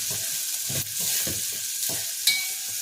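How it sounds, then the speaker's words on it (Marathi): Onion is sautéed in a pan for a traditional Bhogi vegetable dish. Its steady frying sizzle is broken by several rhythmic spatula scrapes and stirs and a sharp clink near the end. "आता आपला कांदा छान परतलेला आहे"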